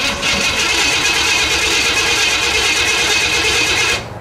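Pontiac Bonneville with the old exhaust removed running loud and close, a dense raspy engine roar holding steady for several seconds before cutting down, with no talking.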